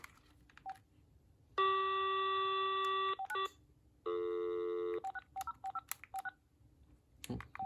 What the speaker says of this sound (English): let's go ahead and make some testing phone calls from these telephones